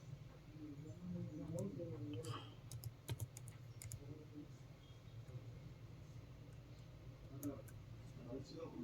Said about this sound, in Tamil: டைப் பண்ணுறோம்